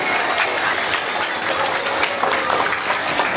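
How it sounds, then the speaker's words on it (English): An audience gives Ironman athletes a loud, steady round of applause, with dense close-up clapping the whole time. "one more round of applause for the awesome Ironman athletes"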